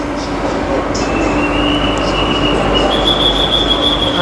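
An Airport Rail Link train stands at a station platform. A loud, steady rumble is overlaid with a long, thin metallic squeal and soft chimes as the doors open, and a voice speaks briefly.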